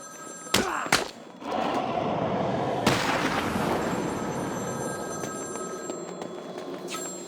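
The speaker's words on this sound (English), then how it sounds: "There's a phone ringing somewhere." A telephone rings in the Batman: Arkham City game amid the Cold Call Killer mission. Tonal rings repeat steadily and sit above a loud, continuous roar, with a couple of sharp thuds near the start and another mid-way.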